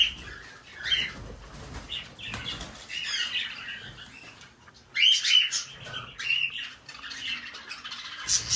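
Several pet birds squawk and chirp loudly and repeatedly near the listener as they are fed, with wing flaps and bursts of calls rising and falling throughout, and no talking.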